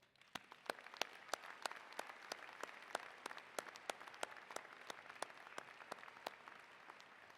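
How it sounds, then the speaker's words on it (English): Applause at a university commencement ceremony, the scattered claps of an audience in a large hall with sharp individual hand claps standing out, moderately distant and steady for the whole stretch. "Please join me in applause"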